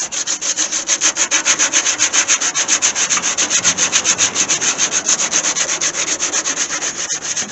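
Someone hand-sands rust-repair Bondo on the body of an old Gremlin car. The sanding makes a steady, fast back-and-forth scratching that stays loud, close and unbroken throughout.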